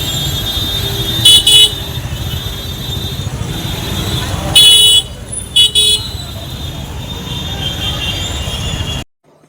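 A street traffic jam in Jalpaiguri crowded with e-rickshaws hums with engine noise, cut by several short bursts of horn honking, with indistinct voices in the background before the sound drops out at the end.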